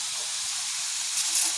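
Purple eggplant and sausage hitting hot oil with balado spice paste, a steady bright hiss of frying that swells slightly near the end, no voices.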